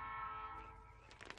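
A train in the Life is Strange Remastered video game sounds a faint horn blast that fades after a moment, followed by soft clattering noise.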